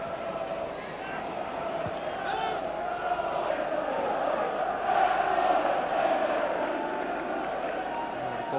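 Football crowd of over 30,000 at Middlesbrough's Riverside Stadium in 1996, a steady roar of distant massed voices swelling slightly midway, with a commentator talking over it.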